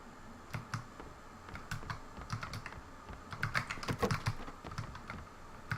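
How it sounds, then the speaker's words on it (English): A mechanical computer keyboard typed on during a game of Playerunknown's Battlegrounds, with rapid, irregular clacks and bursts of keystrokes that cluster more densely near the end, close and moderately quiet. "I know the keyboard's gonna be making a lot of noise"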